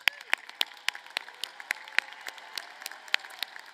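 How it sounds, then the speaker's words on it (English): Applause at a university commencement ceremony: a sparse, crisp round of clapping, with individual sharp claps standing out irregularly over a light background murmur. "Let's have a round of applause"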